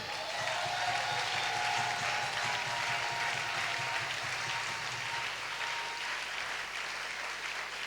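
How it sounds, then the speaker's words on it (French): A church congregation applauds steadily throughout, a dense, sustained wash of clapping that stays loud from start to finish, with a low hum underneath. "Est-ce que vous pouvez acclamer pour vous-même?"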